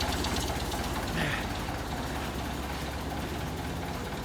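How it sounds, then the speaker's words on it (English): A tractor engine runs steadily during an Arctic snowstorm clean-up, a low knocking diesel rumble at moderate distance that holds even for several seconds. "Let's get out of the way of the tractor."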